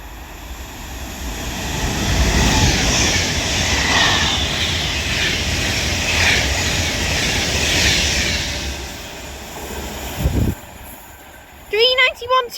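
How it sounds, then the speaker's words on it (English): An Avanti West Coast Class 390 Pendolino electric train from Manchester Piccadilly to London Euston on the West Coast Main Line at Longport passes with a broad, steady rush that swells and fades over about ten seconds, followed by brief voices. "Now passing through is going to be an Avanti West Coast Class 390 Pendolino from Manchester"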